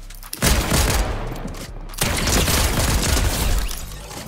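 Shotgun blasts in the video game Fortnite, two heavy booming shots with the second after about a second and a half, each followed by a sustained rumbling, crackling tail, loud and close.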